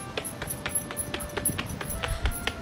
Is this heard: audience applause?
no